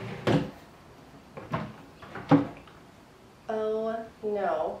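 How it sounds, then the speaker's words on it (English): A stiff cabinet drawer in a gray cabin is slid open and shut several times, each pass a short scraping rumble, followed by two longer squeaky grinding slides near the end; no talk over it. "It's not the smoothest drawer I've ever used."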